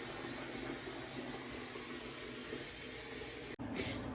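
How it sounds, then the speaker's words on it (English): Water runs from a sink tap into a salmon tank, a steady close hiss and splash that continues before cutting off abruptly near the end, followed by quieter trickling. "the tank is on its way being filled"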